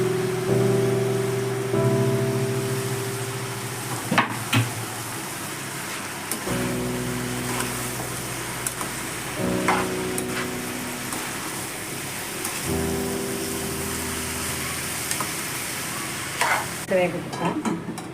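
Brinjal and tomato fry in a pan while being stirred, steady sizzling broken by scraping stirs and clunks of the spoon every few seconds, close and fairly loud, a voice speaking briefly.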